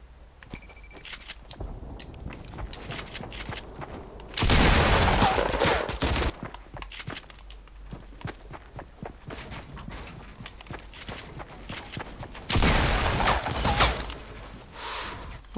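Video game gunfire comes in two loud bursts of rapid shots, each lasting about two seconds, separated by quieter footsteps and ambient game noise.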